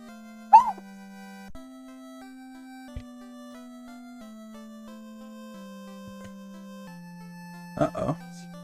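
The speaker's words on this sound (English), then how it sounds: "it looks like my dog is mad at me" A pet dog lets out a couple of short, sharp yips and whimpers, once near the start and again near the end, over sustained chiptune music from the NES game Final Fantasy.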